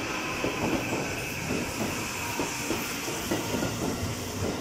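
A train on the Tokyo Metro Tozai Line pulls into a station at Minami-sunamachi, a steady rumble with rhythmic wheel clatter and a broad hiss running throughout, with no talk.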